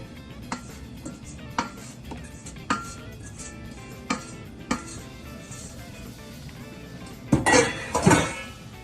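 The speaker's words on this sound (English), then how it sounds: "So I'm going to transfer it into a bigger bowl." Dry cake mix of flour and sugar being transferred into a bigger bowl, with a series of clinks and taps from utensils on bowls, then a louder scraping rustle near the end.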